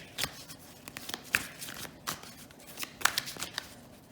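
Tarot cards are shuffled in quick, soft riffles and flicks, a series of light papery bursts close by and fairly quiet.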